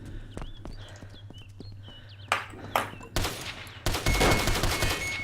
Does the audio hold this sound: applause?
no